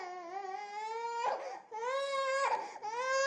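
A young boy cries steadily in a domestic scene, sustained wailing sobs rising and falling with brief catches of breath between bursts, loud and close with no talk over it.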